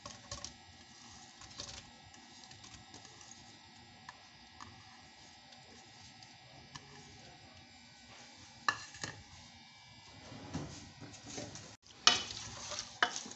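Sliced onions fry in a pan with a cinnamon stick and cumin, a fairly quiet, steady sizzle with scattered clicks that grows busier and louder toward the end as they are stirred.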